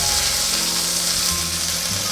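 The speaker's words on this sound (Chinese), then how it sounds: "把它铺平均，让它煎一煎，煎出焦香" Pumpkin and tofu pan-frying in oil, spread flat in the pan to brown, giving a steady, close sizzle with a faint background hum and no voices.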